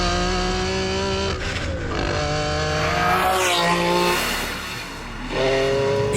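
A Ferrari Enzo's naturally aspirated 6-litre V12 revs hard and close, a loud rising and falling scream that climbs through gears with brief dips between shifts, continuous and unaccompanied by talk.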